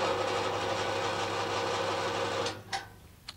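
A bandsaw runs with a steady mechanical whir and hum, then winds down and stops, leaving a few clicks and knocks close by.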